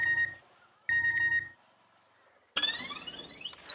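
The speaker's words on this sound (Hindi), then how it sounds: "उठाइए उठाइए सुंदर भैया, फोन उठाइए।" A telephone rings in two short bursts with a pause between them, and no one picks up. A brighter electronic tone with a sweeping pitch follows. No voices are heard.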